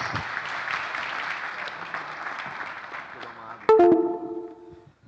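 Clapping from a seated audience at a Brazilian agribusiness panel session fills the room, then fades as a louder voice cuts in near the end.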